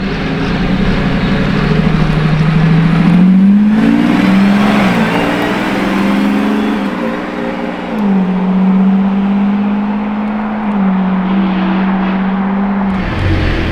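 A yellow Lamborghini Revuelto supercar revs loudly as it passes close by, its rising and falling engine note sustained throughout, with a brief dip before climbing again.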